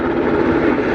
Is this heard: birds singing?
no